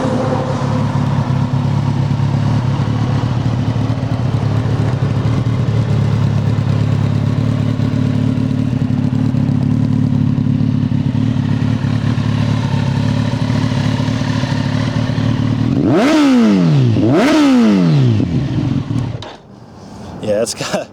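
A Kawasaki Ninja ZX-10R sport bike idles loudly close by with a steady, throbbing engine note, then gets two sharp throttle blips that rise and fall quickly before it settles and quiets.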